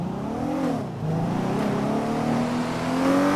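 In a video game, a car engine hums and climbs in pitch as it revs, a steady whirring drone with a brief dip midway before rising again, loud and continuous with no talking.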